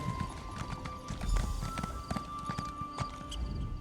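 Horse hooves clip-clop steadily at a riding pace in the Elder Scrolls Online video game, a continuous rhythmic patter beneath a faint ambient game background.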